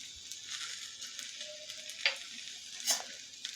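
Okra (bhindi) stir-fried in a pan with lemon juice and salt gives a steady broad sizzle with a few sharper scraping stirs of the spatula, close and moderately loud, no talking.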